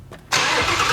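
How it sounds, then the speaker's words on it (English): A 1987 Buick GNX engine cranks and catches, settling into a steady, fairly quiet idle right after a brief starter whir, close up with no talk. "As you can see, the car started up."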